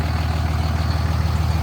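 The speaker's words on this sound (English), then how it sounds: "So this is the sound of the truck on the 12-valve tune." A third-generation Cummins diesel truck on a 12-valve tune idles with a steady, close, deep rumble and an even rhythmic clatter.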